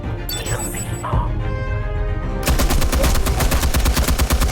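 Gunfire in the video game Batman: The Telltale Series comes as loud, rapid automatic bursts that take over partway through and keep up a fast, steady rattle.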